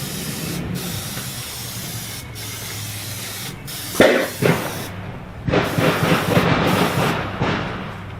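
Hard anti-fouling paint is sprayed onto a sailboat hull over black tar epoxy, a loud continuous hiss with bursts of heavier spraying partway through, close by and without speech.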